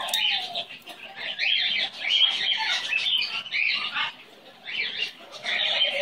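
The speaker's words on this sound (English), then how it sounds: "What a good boy. What an excellent bird." A pet bird calls and chatters repeatedly close by, with bursts of shrill chirps, whistles and warbling notes broken by short pauses.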